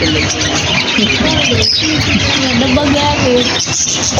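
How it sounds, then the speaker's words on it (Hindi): A loud, dense chorus of parrots squawking and screeching together in a zoo enclosure, continuous and close, with chirps and squeals layered throughout. "तोतों ने शोर मचाया हुआ है"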